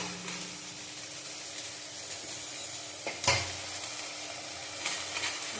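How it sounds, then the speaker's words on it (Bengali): Fish curry gravy simmering in a pan, a steady broadband sizzle and bubbling hiss running throughout with a brief louder clatter near the middle, close and alone with no talk. "ঝোলটা ফুটে গেছে।"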